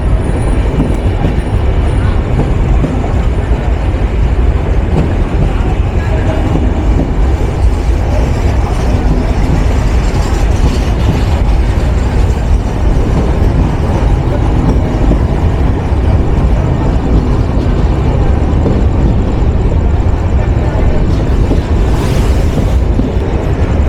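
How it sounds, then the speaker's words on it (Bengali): The 794 Down Panchagarh Express runs through on the main line at Joydebpur railway junction at night, a loud, continuous roaring rumble of wheels and carriages with rapid clattering, close and sustained throughout. "মেন লাইন ধরে থ্রু পাস করে যাচ্ছে উত্তরের শেষ নবাব train number 794 down Panchagarh express"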